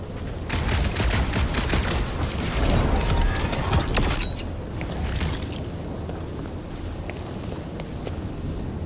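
Magic guns in the Guardians of the Galaxy video game fire in dense, rapid bursts for several seconds, loud and crackling, then the barrage fades into quieter mechanical noise and ambience.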